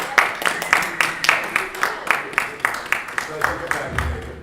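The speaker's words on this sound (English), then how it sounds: "Round of applause." An audience at a ConnectiCon 2017 convention panel claps in a steady, even rhythm for several seconds, close and moderately loud.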